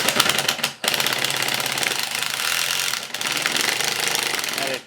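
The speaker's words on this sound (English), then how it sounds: "So this is my original Ryobi impact driver, the P234, and it ratchets much sooner." A Ryobi P234 cordless impact driver rattles in a fast, continuous hammering burst, with a short pause near the start and another dip mid-way, loud and close.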